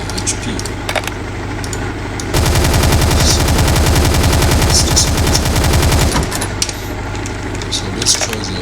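Sustained video-game automatic gunfire aimed at a tank, a dense rapid burst lasting several seconds that starts and stops abruptly, with quieter game sounds and a voice before and after.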